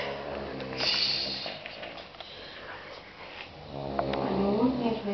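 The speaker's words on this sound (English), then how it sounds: "snoring away" A woman snores through several slow, rumbling breaths during a 2009 girls' holiday in Bulgaria, a steady raspy drone with soft background murmur.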